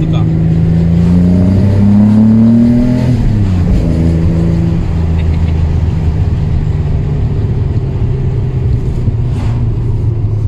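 A classic car's original engine fitted with a replacement carburetor revs up and settles, a loud, close, steady drone with rising and falling pitch sweeps in the first few seconds before holding a rough idle-like hum.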